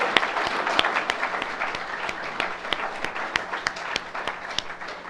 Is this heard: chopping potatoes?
no